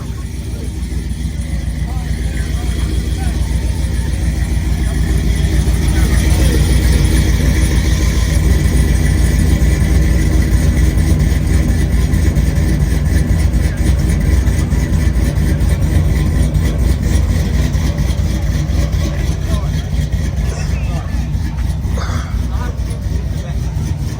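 A blue truck with a single exhaust idling nearby, a loud, steady low rumble throughout with people talking over it.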